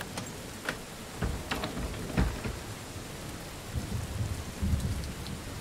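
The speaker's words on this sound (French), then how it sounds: "chez Quantic, dans Heavy Rain, on adore la pluie" Rain falls steadily in a November scene of the video game Heavy Rain by Quantic Dream, a dense hiss of drops with scattered sharper taps and low rumbles, heard alone without voices.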